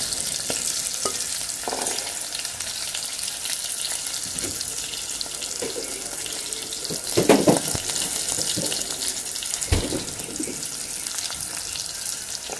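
Onions fry in a pan as a steady broadband sizzle fills the whole stretch, joined by occasional scraping and stirring clatter and a few louder clanks near the middle; no one speaks.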